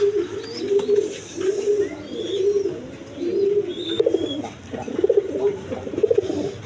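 Large pet pigeons, one kept unpaired for days, give a steady run of rhythmic, repeated coos close by, with a few faint chirps in the background.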